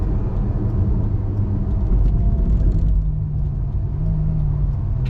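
Steady low engine rumble from a 2014 Ferrari F12 Berlinetta with its V12 building under light throttle while driving, a continuous close drone that swells slightly partway through, no voices.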